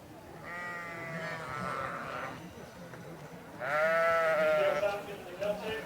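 Ewes at a livestock show bleating loudly in two long, quavering calls with a pause between, set against the murmur of a crowd and nearby voices.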